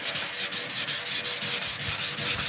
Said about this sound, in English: I'm actually sanding out the scratches of the sideways movement and the round and round that I did earlier on.